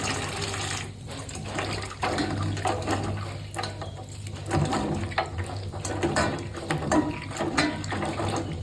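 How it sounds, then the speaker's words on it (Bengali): Dried loitta fish (shutki) being rinsed and rubbed by hand in water, a steady close splashing and trickling with a running tap throughout, no talk. "এই শুটকিগুলো খুব সুন্দর করে ধুয়ে নিতে হবে।"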